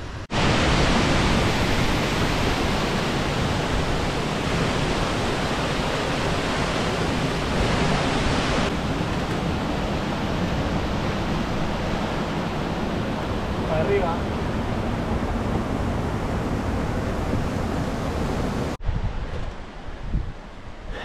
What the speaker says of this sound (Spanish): la cascada está operativa